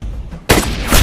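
A single loud, close gunshot from a scene in the film Mr & Mrs Smith, bursting in sharply after a low rumble and ringing on briefly.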